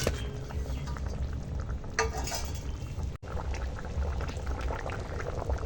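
Fried rohu fish pieces go into a simmering curry of ridge gourd, papaya and drumsticks in a kadai, a steady bubbling sizzle with stirring and a brief clatter near the middle, no talk.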